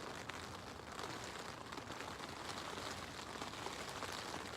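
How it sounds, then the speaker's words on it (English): Steady rain pattering on a taut tent overhead while camping at Bryce Canyon National Park, a dense, even hiss of drops with no voices. "about an hour ago it started raining"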